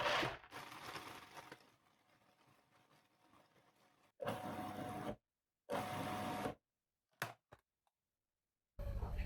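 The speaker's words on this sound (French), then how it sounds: "Il ne vous reste plus qu'à passer au robot la S. On y va, on fait la mouture qu'on aime." Cake base ingredients for a chocolate raspberry cake being ground in a food processor, heard as several loud, close bursts of whirring separated by silent pauses, after an initial longer run that settles into a quiet hum.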